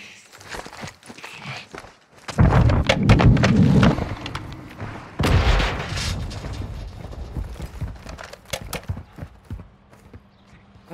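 Heavy booming blasts of missiles exploding in the Call of Duty DMZ video game, two loud rumbling impacts a few seconds apart with debris and gunfire-like crackle trailing off.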